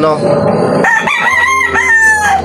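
A rooster crows loudly and close among chickens and chicks, with clucking in the first second and a long, drawn-out crow after it.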